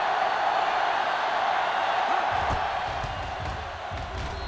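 A football stadium crowd roars steadily after a successful extra point, broad and sustained, with some stomping or thumping joining in midway while the cheer slowly eases.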